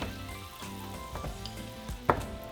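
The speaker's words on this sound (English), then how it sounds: "in a large pan, we're going to set it on low heat, and we're going to add our 5 sticks of butter" Five sticks of butter sit in a large pan over low heat, giving a soft, even sizzle with faint pops and one sharp knock near the end, close by and without speech.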